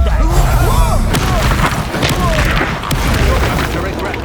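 Confringo fire spell explosions from the Hogwarts Legacy video game during a wizard duel at school, loud booming blasts and thuds layered with magical whooshes, sounding over constant combat noise.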